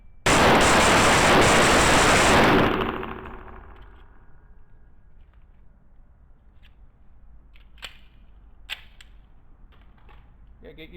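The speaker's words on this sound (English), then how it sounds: "I'm going to shoot it once in regular speed and once in slow motion." A Les Baer Thunder Ranch Special pistol fires a single 230 grain hardball round with a loud, close blast that rings and decays over a couple of seconds, followed by faint clicks and handling noises.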